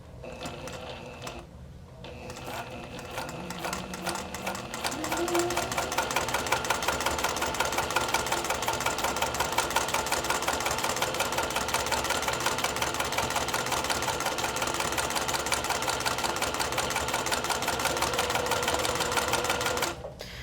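A sewing machine stitches a faux leather strap at a 4 mm stitch length: it starts slowly, then runs a fast, even, rapid mechanical chatter for about fifteen seconds, close and steady, with no talking.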